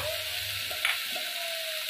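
Onion and ground spices sizzle steadily in a pan, a constant broadband frying hiss with a brief stir or clink partway through, close and even throughout.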